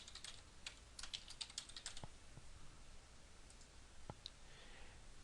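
Fingers type a username and password on a computer keyboard, a quiet, close run of quick key clicks in uneven bursts with a few louder taps, no voices.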